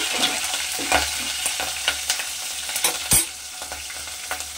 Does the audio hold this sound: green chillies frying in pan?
yes